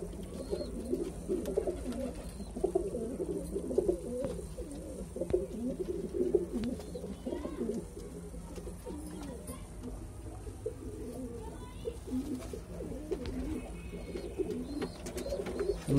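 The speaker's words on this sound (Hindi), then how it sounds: "इन उड़ने वालों में इन्होंने सारे ही कबूतर डाल रखे हैं, पंजाबी भी मद्रासी भी" Madrasi and Punjabi pigeons kept together in a flock coo continuously in low, overlapping murmurs, close by and steady throughout.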